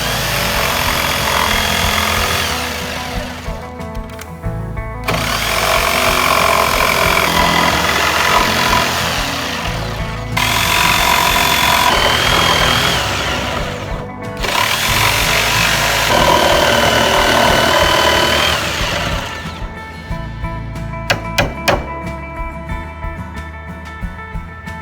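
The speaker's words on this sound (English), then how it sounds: "Something for me to follow with the jigsaw, and" A jigsaw cuts notches into wood for a king size bed platform frame, with three long loud buzzing passes separated by short pauses, followed by lighter tapping and handling at the end.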